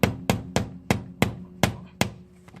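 Hammer blows driving an Alloygator rim protector onto a Tesla Model 3 wheel, seven sharp evenly spaced strikes about a third of a second apart, loud and close with no talking.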